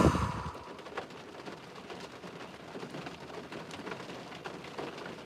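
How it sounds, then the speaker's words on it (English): Steady rain falls in a soft, even hiss with faint patter throughout, heard alone at low level after a brief louder rustle at the start. "The rain is going to wash all of this away"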